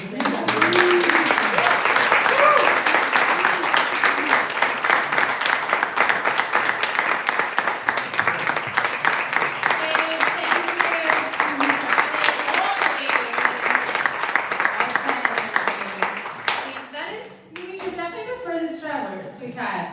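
A live audience at a poetry reading applauds steadily for most of the stretch, dense clapping at a strong level that tapers off near the end as a voice begins speaking.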